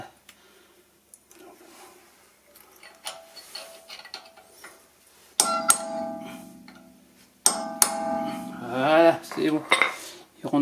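A steel pin punch is struck with a hammer to stake a nut during rear brake pad and disc replacement on a Peugeot 307 SW 1.6 HDi 110. Sharp metallic blows ring out in two loud bursts after quieter clinks.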